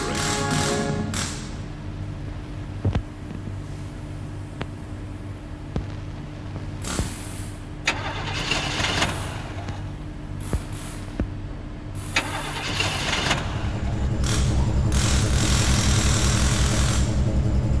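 A 1955 Chevrolet V8 engine cranks over with a starter whir, catches after several tries and settles into a steady, loud running rumble that grows fuller toward the end.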